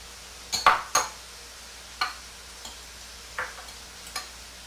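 Oil is added and taco ingredients are mixed in a bowl, giving a few sharp clinks of a utensil against the dish spaced out over quiet pauses, with no talking.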